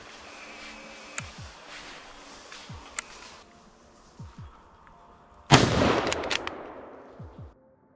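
A single loud hunting rifle shot at a wild boar in open plain, booming and echoing for about two seconds, preceded by quiet rustling and faint clicks.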